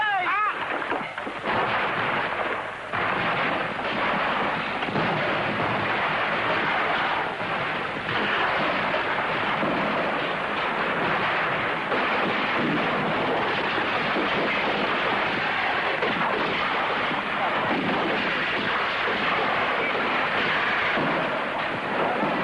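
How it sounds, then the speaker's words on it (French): Heavy battlefield artillery from both armies at the 1859 Battle of Solferino, a continuous loud rumbling barrage with thunder-like booms under a stormy sky, with a voice talking over it throughout. "l'artillerie des 2 camps écrase le champ de bataille"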